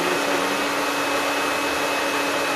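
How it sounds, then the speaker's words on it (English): A hair dryer blows steadily, heating soft rubber on an 18-inch Dalek model, with a constant close whooshing hum and a faint high whine held for the whole stretch, no voices. "even though this is just a hair dryer, it does get pretty good."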